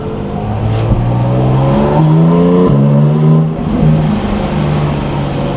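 Loud, close engine note of a Porsche GT4 RS sports car being driven hard, rising through several gear pulls with brief shift dips, sustained and strong throughout.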